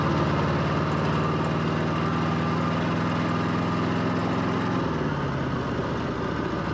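A 1954 Harley-Davidson KH motorcycle engine runs steadily close by with a deep, even throbbing, its pitch dropping slightly partway through as it settles.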